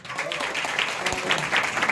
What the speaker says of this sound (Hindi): चलो इन सभी टीम के लिए हम लोग रियली ताली बजाते दिल से